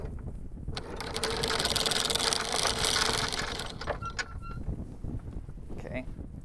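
A boat's engine idles in reverse while anchoring, a steady low mechanical hum that rises louder midway then eases off, with wind and water noise and a person talking briefly.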